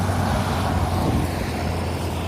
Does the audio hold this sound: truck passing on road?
yes